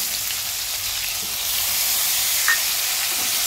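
Tomatoes sizzling in hot oil tempered with spices, a steady, loud, close hiss of frying that holds evenly throughout with a faint clink partway through.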